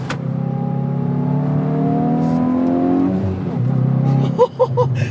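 A Hyundai i20 N engine revs up through rising gears in a steady whine, then drops with a gearshift and a few sharp pops from the exhaust.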